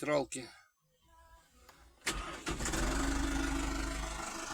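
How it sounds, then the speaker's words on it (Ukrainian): A Massey Ferguson 2440 tractor engine cranks and catches at about two seconds, then settles into a loud, steady rumbling idle. A voice speaks briefly at the start. "Так, завівся. Завівся трактор."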